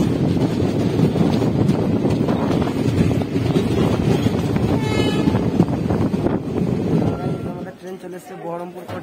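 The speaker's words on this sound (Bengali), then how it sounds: "আর এখন আমাদের ট্রেন কাসিম বাজার থেকেও ছেড়ে দিয়েছে" The Bhagirathi Express rolls along just after leaving Kasim Bazar station, a loud continuous roar of wheels and wind with a short horn-like tone near the middle, and voices are heard in the carriage.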